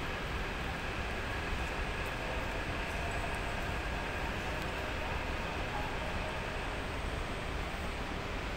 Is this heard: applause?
no